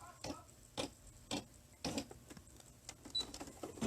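A sewing machine stitches a diagonal zipper bag in short, quiet bursts of rhythmic ticking, backing up a few stitches, close and faint.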